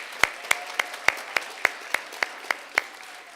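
Claps ring out at a school district board of trustees meeting, about ten sharp, evenly spaced slaps in a slow, steady rhythm, with no voices or cheering.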